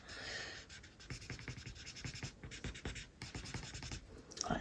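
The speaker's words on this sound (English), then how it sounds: "special markers that only work on the special paper." Crayola Color Wonder markers on the special paper, giving a steady close scratchy rub of marker tip across paper strokes for several seconds, faint and alone.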